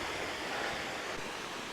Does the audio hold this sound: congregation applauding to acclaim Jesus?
no